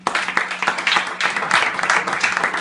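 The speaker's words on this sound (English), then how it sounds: "Please put a round of applause for BlackAce" Audience applause breaks out for BlackAce, a performer taking the stage at a winery launch event, a dense steady patter of many hands clapping close by for a couple of seconds.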